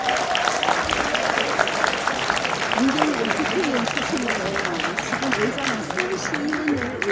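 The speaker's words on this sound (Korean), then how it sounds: "박수 한번 부탁드립니다" Steady applause from a crowd at a People Power Party members' rally fills the whole stretch, with a voice speaking over the clapping.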